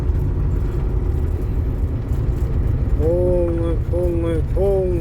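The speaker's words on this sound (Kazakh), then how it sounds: "Не деген көп машина бұлар?" Busy road traffic on the highway between Balkhash and Almaty, a constant low engine rumble from inside a vehicle, with people talking and a few short bursts of car horns near the end.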